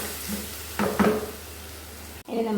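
Raw mango mixture stirred with turmeric powder in a pan gives a soft, close sizzle with a couple of brief scraping strokes of the utensil, then a short pause before the sizzle resumes.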